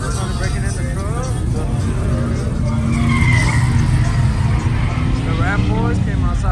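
A Ram pickup truck at a Houston truck meet does a burnout, its tires squealing in wavering high screeches over a loud, continuous engine roar, with crowd voices mixed in.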